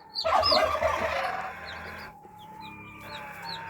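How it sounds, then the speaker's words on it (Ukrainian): A small hen clucks softly up close while tiny chicks under her peep in high, short chirps, scattered throughout. "Така маленька курочка і такі маленькі курчатка під нею."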